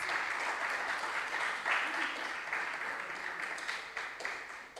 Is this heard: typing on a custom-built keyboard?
no